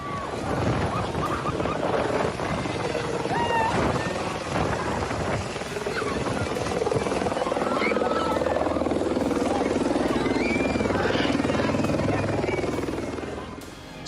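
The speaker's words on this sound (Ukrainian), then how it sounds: "На свято в одну зі шкіл він, немов справжній пан, вирішив спуститися на персональному гелікоптері." A personal helicopter coming down at a school for a holiday event, its loud, steady rotor roar filling the whole stretch and churning continuously, with a low rumble underneath.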